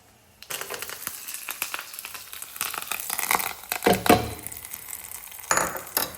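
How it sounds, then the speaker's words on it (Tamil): Grain dosa cooks on a pan, with soft sizzling and repeated scraping and tapping of a metal spatula against the pan in irregular bursts, close and fairly quiet. "நான் சும்மா வெறுமனேவே இப்போ தோசை சுட்டு தரலான்ட்டு இருக்கேன்"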